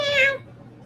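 A cat lets out a single loud, drawn-out meow close by, then quiet room noise follows.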